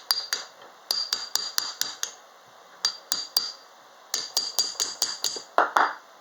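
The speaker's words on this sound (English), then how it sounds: "try to just free it up by tapping on it" Sharp metallic taps from a socket extension striking a 1948 Ford wiper transmission, in quick bursts of several strikes with short pauses between groups; bright, ringing clinks close up, no talking.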